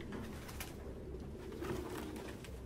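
Pigeons coo softly in the video game Detroit: Become Human, their low murmuring calls running steadily over a busy background bed for a few seconds.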